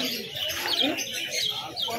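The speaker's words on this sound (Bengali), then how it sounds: "এই লক্ষা পায়রা দেখতে পাচ্ছেন" Lakha fancy pigeons at the Birnagar pigeon market, soft chirps and calls rising over a busy market background with faint voices mixed in.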